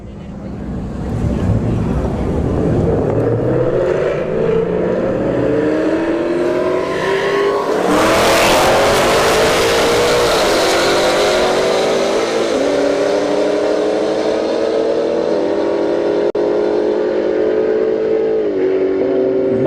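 Drag racing at Bradenton Motorsports Park, with a Camaro in the left lane: loud engines rev and launch in a sharp burst, then a sustained rising roar through the gears, with faint voices underneath.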